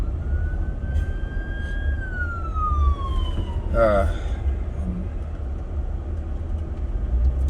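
A fire truck siren wails through traffic on the edge of Venice, Florida, one long tone that slides downward and fades, heard from inside a moving car over steady road rumble.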